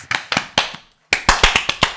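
Hands clap in two short runs, sharp close claps in a loose irregular rhythm broken by a brief silence, with no voices.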